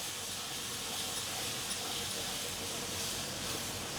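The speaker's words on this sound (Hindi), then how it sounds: "और अदरक लहसुन के पेस्ट को भी थोड़ा सा भून लेना है ताकि कच्चा टेस्ट ख़त्म हो जाए।" Ginger garlic paste sautéing in a pan over a gas flame, a steady loud sizzling hiss that runs unbroken throughout, with no talking.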